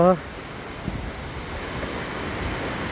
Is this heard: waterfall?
yes